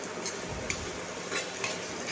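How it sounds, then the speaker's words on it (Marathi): Homemade hair oil is stirred in a pan, giving a soft, continuous scraping and light sizzle with a few faint utensil clinks against the metal. "व्यवस्थितपणे ह्याला हलवत राहायचं"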